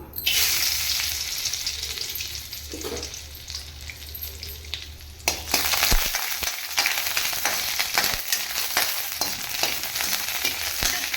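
Cashews fry in a pan with a loud, steady sizzle, crackling harder after they drop into the hot fat partway through, then bubbling on with scattered pops.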